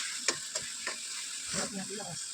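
Onions sizzle softly in a pan, with a few light scraping stirs and clinks of a spoon.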